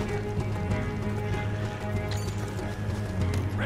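Horses galloping in the video game Red Dead Redemption 2, rapid rhythmic hoofbeats drumming over a busy game soundscape, steady and close throughout.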